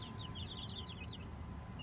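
Mother hen with her chicks on a farm, giving soft low clucks while the chicks peep in quick high chirps, faint and close against a quiet background.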